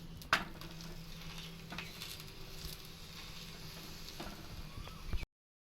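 An onion paratha frying in oil on a pan makes a faint, soft sizzle with occasional light clicks and taps, steady and quiet, before cutting off abruptly.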